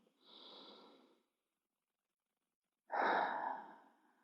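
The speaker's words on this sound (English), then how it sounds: "take some deep breaths" Two slow, deep breaths drawn down into the belly, a soft airy inhale and then a fuller, louder breath about three seconds later, close and quiet with silence between them and no talking.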